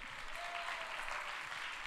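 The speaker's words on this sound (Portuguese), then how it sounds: "Vamos aplaudir quem respondeu a C" Church congregation applauding during a pastor's Bible teaching, a soft, even patter of clapping heard from a distance.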